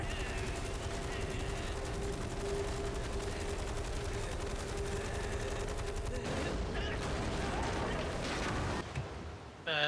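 Sustained movie gunfire from Godzilla Minus One, a dense barrage of shots and fusillade rumbling continuously, loud and steady throughout, with a low droning tone underneath and the volley breaking up near the end.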